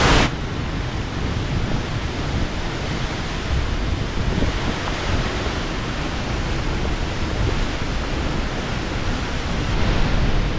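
Rushing water of Bhivtas waterfall, a loud, dense, unbroken roar filling the whole stretch with no voices.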